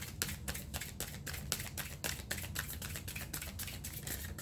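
Rapid papery riffling in quick regular bursts, large tarot cards shuffled, flicked and slapped together close by, with no talk over it.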